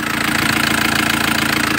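A 2014 Chevrolet D-Max 2.5 diesel engine with a modified turbo and a replacement exhaust manifold runs loud and close, with a steady, rapid knocking pulse.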